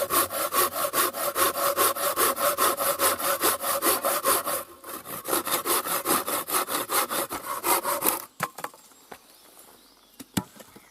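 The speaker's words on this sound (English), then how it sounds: "This is the one problem I find with this saw. Great for cutting firewood." Hand saw cutting firewood, a steady rapid rhythm of close, loud rasping push-pull strokes that slows and stops near the end, followed by a few light knocks and handling sounds.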